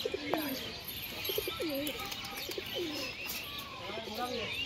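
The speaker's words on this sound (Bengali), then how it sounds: "ওটা একটা বালি পায়রা" Pigeons coo in repeated soft, throaty phrases at close range over a constant background hiss, with a few faint chirps mixed in.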